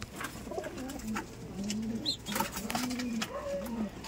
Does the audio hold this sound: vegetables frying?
no